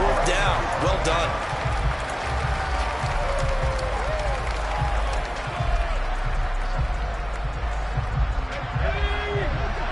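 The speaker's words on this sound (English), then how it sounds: "Some applause for the defense there" Crowd applause and cheering fill a stadium in the Madden 23 football video game, a steady roar of clapping under a commentator's voice.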